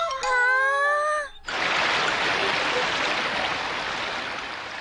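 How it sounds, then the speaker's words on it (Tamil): After a brief tonal hum at the start, a steady rush of falling water takes over, broad and continuous, gradually easing slightly. "ஓ வாவ், இந்த ஃபால் சூப்பரா இருக்கு."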